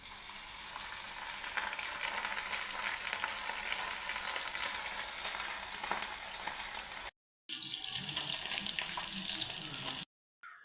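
Fish coated in semolina and cornflour sizzles in hot oil, a steady close crackling hiss that cuts out briefly twice near the end.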